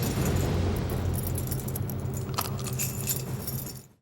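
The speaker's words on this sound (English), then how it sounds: "she eats the keys" Loud, continuous jangling of metal keys as a zombie eats them in a horror movie, a dense rattling clatter that holds steady for several seconds before cutting off abruptly.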